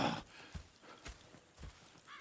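Horse hooves clip-clop in a steady rhythm in Red Dead Redemption 2, with a brief whinny near the start and another near the end, moderately close and clear.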